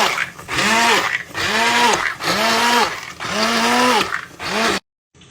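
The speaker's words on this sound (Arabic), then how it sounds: "حسيت انه لازم اهرسها انعم صراحة، فجبت الخلاط" An electric blender pureeing cooked fava beans with water runs in about four loud, close bursts, its motor whine rising and falling in pitch with each pulse, then cuts off abruptly.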